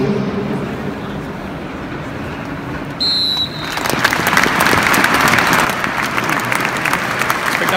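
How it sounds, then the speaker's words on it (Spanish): A football stadium crowd gives a minute's applause that starts with a sharp referee's whistle, swelling into loud, sustained clapping that fills the ground after a quieter murmuring stretch. "a minute's applause, which will begin and end on the referee's whistle."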